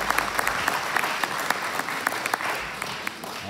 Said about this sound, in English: let's give them a nice round of applause for everything they've done